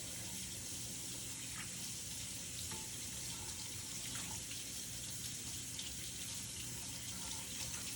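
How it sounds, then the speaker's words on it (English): Steady tap water runs into a sink as soap is rinsed off hands and wrists, a continuous even splashing hiss throughout with no talking. "Next, you're going to rinse all of the soap off of your hands and wrists."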